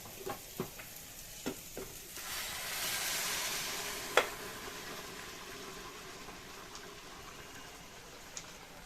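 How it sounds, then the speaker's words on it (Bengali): Shrimp spice paste tipped into boiling mung dal in a wok, a few short clatters first, then a loud broad sizzle swelling for a couple of seconds and easing into steady bubbling and frying, with a sharp clink midway. "চিংড়ি মাছ দিয়ে যে মশলাটা কষালাম কড়াইতে ঢেলে দেবো"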